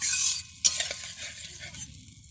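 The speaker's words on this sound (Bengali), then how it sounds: "সিদ্ধ করে রাখা আলুগুলো দিয়ে দিচ্ছি, দিয়ে ভালো করে নেড়ে নিচ্ছি" Boiled potatoes tossed into fried masala in a pan for a rui fish and okra curry, a sharp knock and then a run of spatula scrapes and stirring over a bright, hissing sizzle that eases off at the end.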